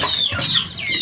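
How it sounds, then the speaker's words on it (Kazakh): Chickens cluck close by while newly hatched chicks peep in high, thin calls, a brief busy burst from a backyard coop with no talk. "Міне балапандар,"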